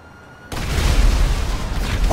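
A sudden loud explosion in the video game GTA 5 bursts in after a quiet moment, followed by a sustained roaring rumble of blasts and fire.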